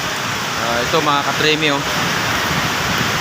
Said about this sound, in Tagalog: Hindi kami makalabas-labas pa dahil malakas ang ulan dito at hangin